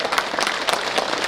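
An audience at a regional parliamentary report meeting in Samcheok claps together, a dense, continuous burst of applause filling the short stretch at moderate loudness.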